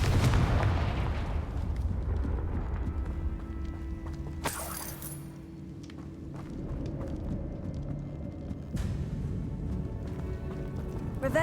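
A Confringo fire spell blasts in Hogwarts Legacy with a sudden broadband burst around the middle, then a second hit later, over a constant low rumble of game ambience.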